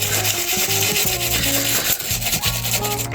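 An earthing-point bolt from a BMW F650 Funduro motorcycle being rubbed clean, with fast repeated close scrubbing strokes in an even rhythm, loud and continuous with no talk.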